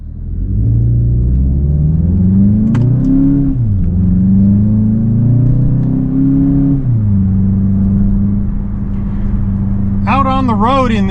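A 2026 Volkswagen Jetta GLI engine hums and whirs steadily from inside the cabin, rising and falling in pitch as it accelerates and shifts, with a low road rumble underneath.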